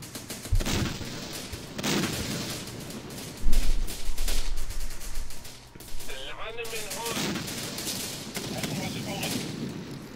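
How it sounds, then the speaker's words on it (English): Gunfire aimed at a minaret in the Syrian Warfare strategy game: rapid bursts and sharp shots crackle repeatedly through a busy battlefield mix, with a heavier low thump partway through and a warbling tone near the end. "Oh, they're firing at the minaret."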